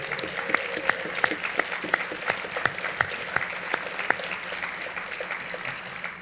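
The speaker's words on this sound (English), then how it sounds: "how about a round of applause for everybody here tonight?" Audience applause at a high school National Honor Society induction ceremony, a steady wash of many hands clapping with sharp individual claps standing out, moderately loud and sustained without talk.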